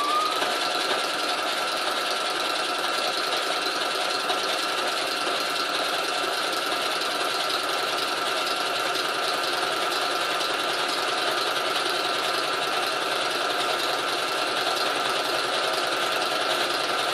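Sewing machine running nonstop for free motion quilting scallop patterns, a dense, even mechanical hum and rapid needle chatter held at a constant close level throughout, with no voices.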